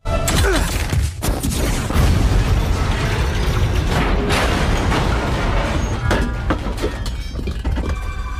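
Iron Man's Mark 42 armor blowing up in a film scene, a loud sudden blast followed by sustained rumbling, crackling debris and further bursts with a heavy low boom throughout.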